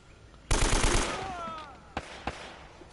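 A loud burst of rapid automatic gunfire in Uncharted, a quick stuttering volley followed by a ringing tail, then two sharp single shots spaced apart.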